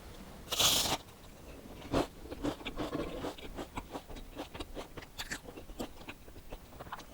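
Crisp crunching bites of a dry Weetabix wheat biscuit cereal, a loud first bite followed by a steady run of chewing crunches up close.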